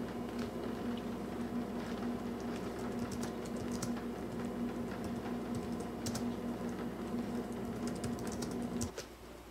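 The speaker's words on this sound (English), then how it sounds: "Now let's type a little bit with it." Steady, rapid typing on a Logitech keyboard case for an iPad, a dense stream of close, soft key clicks over a faint electrical hum, ending abruptly near the close with no talking.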